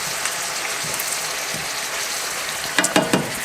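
Shrimp linguine ingredients with parsley sizzle and fry in a pan as they are stirred, a steady close crackle with a few louder scraping stirs near the end, no talking.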